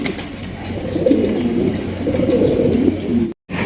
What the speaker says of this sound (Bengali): এখানে রয়েছে হাই কোয়ালিটির এক জোড়া স্প্যাঞ্জেল স্ট্রেচার কবুতর দেখতে পাচ্ছেন